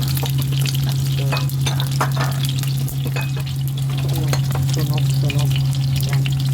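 Chicken sizzles and spits steadily in a hot pan, a dense continuous frying crackle with scattered pops, joined by a low steady hum underneath and no talking.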